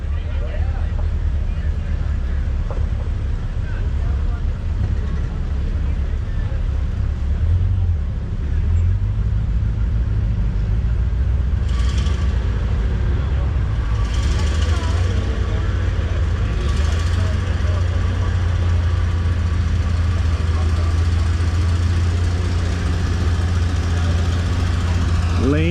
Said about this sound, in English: a 504 cubic inch propane engine in this